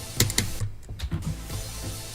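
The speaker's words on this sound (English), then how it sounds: "I thought I just heard keyboard noises." A computer keyboard clicks in a quick, close run of keystrokes over a steady background hum, with a brief pause in the middle.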